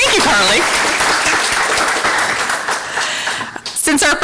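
Applause from an audience at a student pitch competition showcase, steady dense clapping filling most of the stretch before thinning out, with voices mixed in toward the end.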